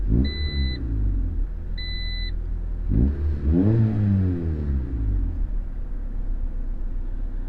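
A car under restoration beeps twice, then its engine cranks and starts. It revs up and settles into a rough, close rumble with no talk.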